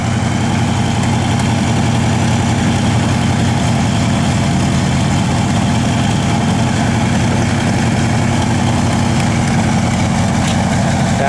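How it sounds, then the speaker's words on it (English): A 1971 Plymouth Cuda engine runs loud and close at a steady, even idle with a deep continuous rumble and no clear rise in revs. "I'll have to rev it up so they can see the tach working"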